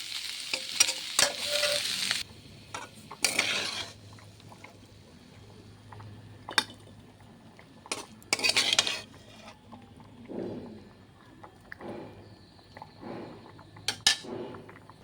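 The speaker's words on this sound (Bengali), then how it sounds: "দোনো পাতা কুচিটা দিয়ে একটু আমি নেড়ে নিই ভাজলে ভালো হয়" Vegetarian vegetable chorchori with chopped coriander leaves fries in a pan while being stirred, with bursts of scraping and rustling from the spatula over a soft ongoing sizzle, some stirs loud and close, others quieter.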